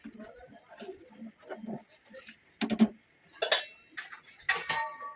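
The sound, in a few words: stirring ghee in a pan with a spoon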